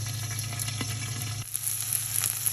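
A tempering with curry leaves crackles and sizzles in hot oil for a bottle gourd garlic curry. The frying is loud and close, with a dense hiss and scattered pops, and it eases slightly partway through.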